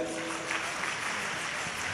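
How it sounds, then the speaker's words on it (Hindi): A large audience at a Shiv Mahapuran katha gathering in Madhepura, Bihar, claps in a steady, dense wash of applause, heard from a distance and fairly quiet. "एक बार तालियां बजाकर"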